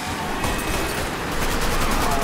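Sustained gunfire in the video game Mafia 3, including an assault rifle, a loud dense barrage that turns into a quicker run of rapid, evenly spaced shots toward the end.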